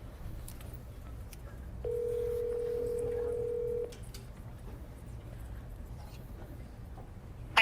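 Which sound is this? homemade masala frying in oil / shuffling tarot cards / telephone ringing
telephone ringing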